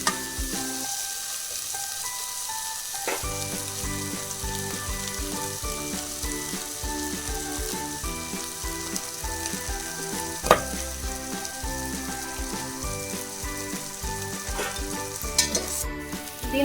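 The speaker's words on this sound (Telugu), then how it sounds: "మసాలా నూనెలో బాగా వేగాలండి," Masala fries in hot oil in a pan for rice, with a continuous, close sizzle. A few sharp spoon or stirring clicks cut through it, and no voices are heard.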